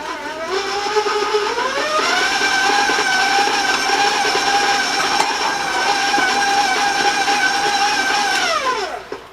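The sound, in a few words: electric mixer creaming butter and sugar for cookie dough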